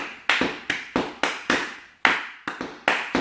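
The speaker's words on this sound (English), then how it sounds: "And then clave over the top goes" A clave rhythm tapped out by hand, sharp dry clicks falling in the syncopated clave pattern, close and distinct with no other sound.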